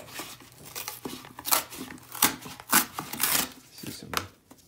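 Coin rolls of pennies being opened, with bursts of paper tearing and crinkling and a few clinks of loose copper coins, close and fairly quiet, in short irregular spurts.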